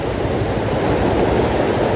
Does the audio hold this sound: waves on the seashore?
yes